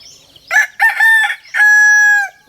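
A brassback gamefowl stag crows loudly and close by, two short opening bursts followed by a long drawn-out final note, with near silence around it.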